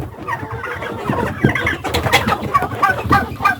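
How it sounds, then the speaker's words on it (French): Brahma chickens clucking and turkeys gobbling in a busy farmyard, calls overlapping continuously with some background rumble. "on a aussi les dindons et les poulets brahma"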